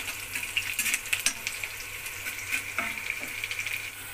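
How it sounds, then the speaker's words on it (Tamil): Onions fry in a pan with a close, crackling sizzle, broken up by repeated scraping and clattering stirs at an uneven rhythm. "பாருங்க வெங்காயம் பொரிஞ்சிச்சு"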